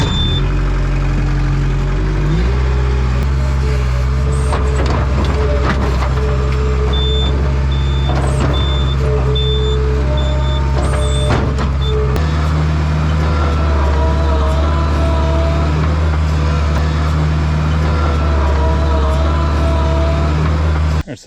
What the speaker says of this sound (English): got a little bit of excavating work ahead of me with the skid steer